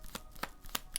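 Tarot cards being shuffled by hand give a few quick, faint riffling bursts spaced roughly evenly apart, close and quiet with no speech.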